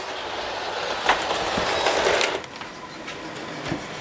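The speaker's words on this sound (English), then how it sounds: "And the trains go quiet now." Märklin model trains run around a home layout, a continuous close rattle of small wheels clicking over rail joints with occasional louder clacks, no talk over it.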